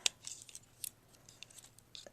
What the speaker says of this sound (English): you should be able to hear a clicking noise